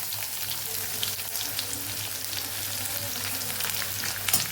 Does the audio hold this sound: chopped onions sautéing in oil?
yes